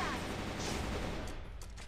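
Turret gun fire in the mobile game Liên Quân Mobile (Arena of Valor), a dense, continuous burst of gunfire and impacts filling the whole stretch at steady loudness.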